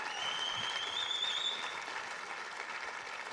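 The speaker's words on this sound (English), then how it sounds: "You can clap your hands." Steady audience clapping at an awards ceremony, a continuous wash of applause heard from a distance, with a faint tonal whistle over it early on.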